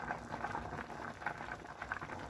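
Fresh pine cones boil in a pot of water that has been simmering for about an hour and a half, giving a steady, close bubbling and popping that churns continuously without pause.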